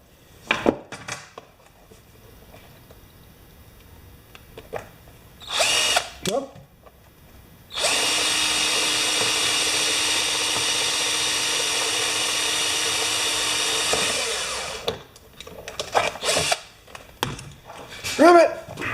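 A power drill whirs steadily for several seconds, loud and close, while repairing a dropped DeWalt 4-gallon compressor, with brief clattering of tools and handling noises before and after.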